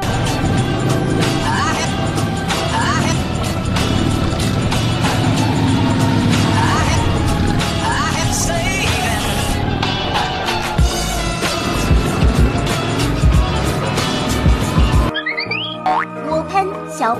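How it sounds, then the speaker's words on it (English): Toy police motorcycle making a busy electronic revving and siren-like racket, loud and continuous, with chirpy warbling tones on top and a brief springy jingle at the end. "警用摩托车 Police motorcycle"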